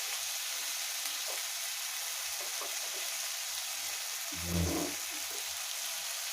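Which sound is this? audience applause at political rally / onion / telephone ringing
onion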